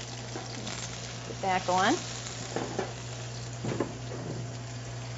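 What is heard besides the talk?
peppers and onions sizzling in hot oil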